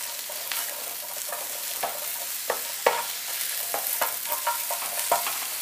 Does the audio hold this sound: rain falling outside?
no